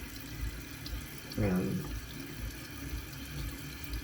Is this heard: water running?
yes